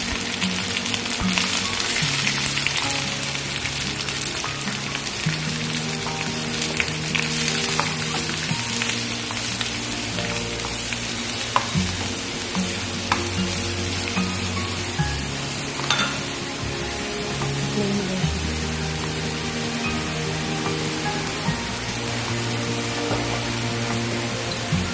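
Crushed ginger, garlic and a green chilli frying in oil in a pan for a spicy egg macaroni cake, a dense continuous sizzle with light stirring, close and loud with no talk.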